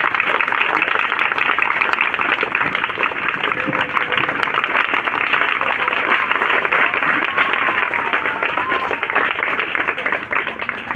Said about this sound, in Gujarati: તાળીઓથી એના ગડગડાટથી આપણે વધાવીએ.